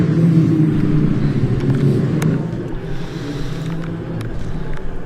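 Junior saloon racing cars pull away at a safety car restart during a championship round at Croft, a dense, rumbling engine roar from several cars that eases slightly, heard at moderate distance without talk.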